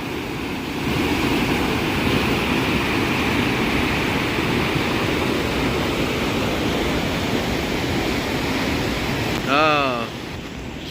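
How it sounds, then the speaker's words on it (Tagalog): Strong floodwater rushing steadily past a bridge, a loud continuous broadband roar that holds for the whole stretch, with a brief chirping sound near the end. "Grabe lakas ng tubig"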